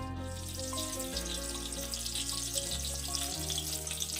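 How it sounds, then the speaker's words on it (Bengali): Batter-coated amudi fish sizzling in oil in a wok, a steady bright frying hiss running throughout, with music playing over it. "এবারেও ঠিক সেম প্রসেসে মাছগুলোকে ব্যাটারের মধ্যে ডুবিয়ে কড়াইতে ছেড়ে দিচ্ছি।"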